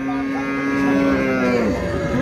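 A Jersey cow lows at a busy rural cattle market, one long loud sustained moo close by over a steady background hum of the crowd.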